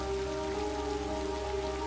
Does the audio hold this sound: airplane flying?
no